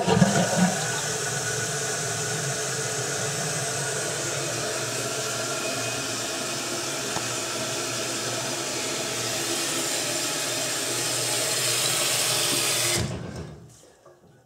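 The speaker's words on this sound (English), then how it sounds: "So when I flush the toilet, water from the tank drips down onto the ground here." A toilet flushes with a steady, loud rush of water from a faulty tank that leaks onto the floor, running continuously for about thirteen seconds before cutting off abruptly into quiet.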